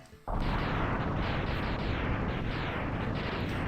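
A sudden explosion in Mega Man X bursts in after a brief quiet and holds as a loud, dense, sustained rumbling roar with repeated pulsing blasts, no voices over it.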